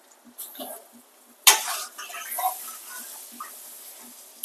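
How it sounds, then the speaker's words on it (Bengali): Spice paste of turmeric, chili and cumin powders with salt and tomato is stirred in oil in a pan, giving a soft sizzle with a sharp spatula scrape and intermittent stirring sounds close by. "মশলায় তেল ছাড়া অবধি ভালোভাবে মশলাটা কষিয়ে নেব।"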